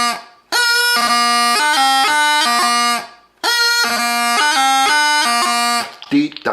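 Highland bagpipes play a reel phrase with a GDE grace-note embellishment: two loud, bright, sustained runs of rapid melody notes over a drone, split by a short pause, with no talking.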